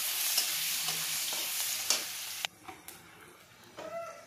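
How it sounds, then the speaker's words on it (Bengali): Onion fries in hot oil in a pan, a continuous bright sizzle with a few stirring scrapes, easing off toward the end, close and fairly quiet. "পেঁয়াজটা আমি লাল করে ভাজবো"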